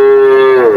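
A cow with a calf moos once at a cattle market. The call is loud, close and drawn out, with a steady tone that bends downward at the end.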